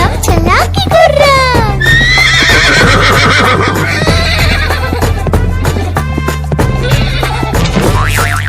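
A horse neighing and whinnying as a sound effect in a children's rhyme, loud and repeated over bouncy music with clip-clop hoofbeats and boing effects.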